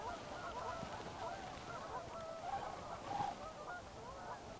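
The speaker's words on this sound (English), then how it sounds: "Listen to the geese" Flock of geese honking at dawn in Yellowstone, a steady overlapping chorus of calls carrying from some distance over open ground, continuous and moderately loud.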